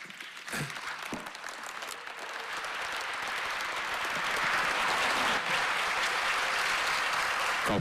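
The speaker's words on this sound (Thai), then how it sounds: "เสียงปรบมือโดยสมาชิกรัฐสภาหลังจากการบอกลา" Members of parliament applauding after a farewell speech in the Thai parliament chamber, clapping starting light and scattered, then swelling into a full, steady round of applause.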